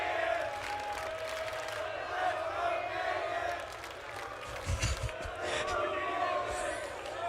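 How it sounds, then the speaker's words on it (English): A large crowd at a Counter-Strike esports tournament semifinal roaring continuously in a big arena, with booing, rhythmic chanting and scattered shouts under a commentator talking. "The boos, the chants."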